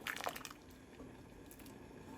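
Chana dal being mashed with a spoon inside a Tefal pressure cooker, soft wet squishing and a few clicks near the start, then quieter squelching; close and fairly faint, with no talk.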